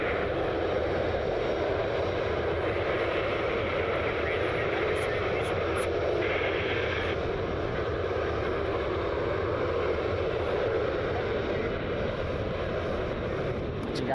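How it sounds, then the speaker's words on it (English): A Delta 737-900 holds short at Cleveland Hopkins International, its jet engines giving off a continuous broad roar that stays steady for the whole stretch, with a few faint high clicks partway through. "Let you guys soak up the jet noise as our Delta 737 holds short."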